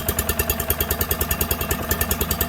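A Giant Vac leaf blower's small engine idles loudly and close, a fast, even, throbbing chug with rattly mechanical pulses and no talking.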